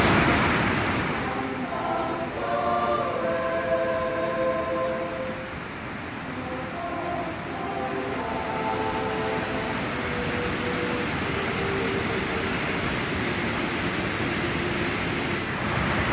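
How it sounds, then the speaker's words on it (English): The Rogue River emerges from an underground lava tube in a steady, rushing roar of water that stays loud and constant throughout, with faint tonal voices or birds drifting through the middle. "The Rogue River goes for a ways through an underground lava tube. This is where it emerges."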